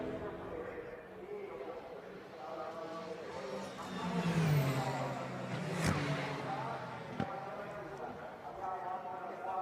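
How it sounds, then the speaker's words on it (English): Ferrari 499P Le Mans Hypercar and Ferrari 296 GT3 race cars testing at Imola, their engines rising and falling as they pass at a distance, with a louder sweep midway, under continuous talk. "The really distinctive sounds of both the Le Mans Hypercar and also the"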